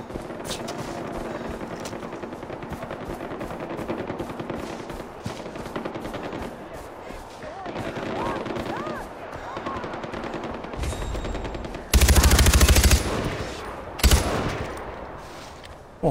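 Rapid automatic gunfire from the video game Far Cry 4, long rattling bursts running nearly continuously, then a couple of heavier loud blasts near the end, with game sounds layered underneath.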